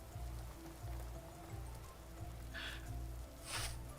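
Rain patters steadily in the game Vintage Story, a soft continuous wash with a low repeating rhythmic thud beneath it and a couple of brief higher sounds near the end.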